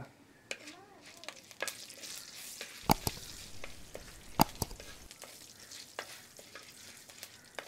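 Whole spices such as fenugreek, cumin, cloves and cinnamon sizzle in a hot pan for a Jaffna-style chicken curry, a faint, steady crackle broken by a few sharp clinks of a utensil against the pan.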